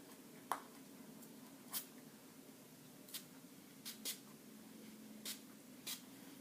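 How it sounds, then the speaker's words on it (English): Short hissing bursts of makeup finishing spray misted onto a face from about eight inches away, about seven quick, faint sprays spaced irregularly over a quiet background. "You hold it about 8 inches away, and you spray in a crisscross pattern."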